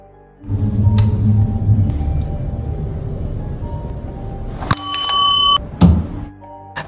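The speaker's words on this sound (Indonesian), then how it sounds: "Melihat bel terkutuk yang Darcy kirim" A cursed bell in a horror film gives a short, bright metallic ring near the end, over a low rumbling ambient bed with a couple of soft thumps.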